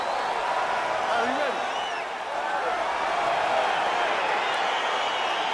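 A virtual arena crowd in the video game EA Sports UFC 4 cheers with a steady, dense roar of massed voices that stays at an even level and carries scattered whoops throughout.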